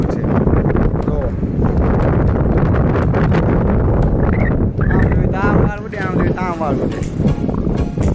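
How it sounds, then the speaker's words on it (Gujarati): Strong wind buffets the microphone outdoors near a highway at the edge of Surat, a loud continuous roar with gusty rumbling, while a person speaks over it. "પવન કેવો છે જોવો, ઉડી જાય હમણાં ક્યાંક."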